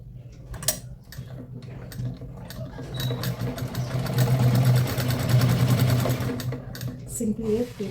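A sewing machine stitching a blouse runs in a fast, steady ticking rattle that swells louder midway, then stops, with someone talking over it.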